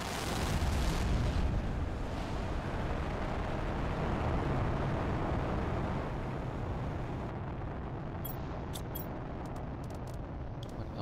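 A rocket carrying animals launches in the video game Planet Crafter, a loud, steady broadband roar that fills the whole stretch and eases off slightly toward the end, with a few faint clicks near the close.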